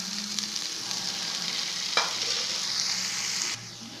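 Fried black urad dal being stirred in sesame oil in a pan, with a soft continuous sizzle and light scraping close up and no talk.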